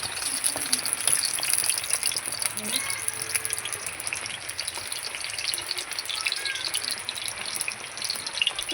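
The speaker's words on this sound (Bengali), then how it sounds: "তেল দিয়ে দিয়েছি এবার আমি ফোড়ন দেবো এই একটা শুকনো লঙ্কা" Steady, fairly loud sizzle and crackle of a dried red chilli and black cumin tempering dropped into hot oil, close by and continuous throughout.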